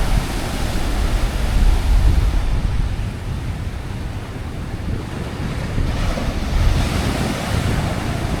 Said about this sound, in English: turn the mic off so then you can hear it of the natural waves breaking